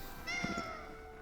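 A cartoonish cat meows in a short, bright rising-and-falling cry in the video game Tales of Vesperia, heard alone with soft game ambience behind it.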